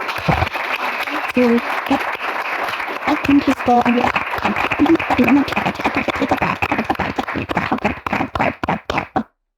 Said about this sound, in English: Let's all give the CEO of PF Africa Mining a round of applause.